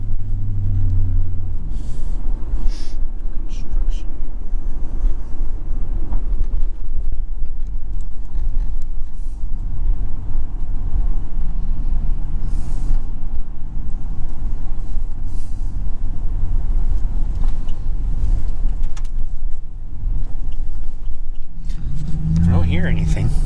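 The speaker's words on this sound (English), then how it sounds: "Give everybody kind of a good what it sounds like, exhaust noise in the back of the car." A Ford Crown Victoria's exhaust rumbles steadily at the rear of the car, a loud low drone that continues throughout, with people talking over it.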